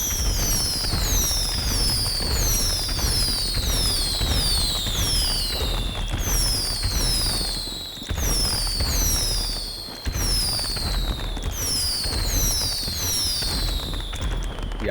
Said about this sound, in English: fireworks launcher.